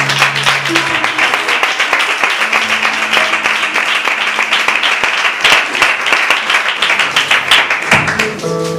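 A church congregation breaks into sustained applause, dense clapping filling the room steadily for several seconds before tapering at the end, with a sustained musical tone underneath at times.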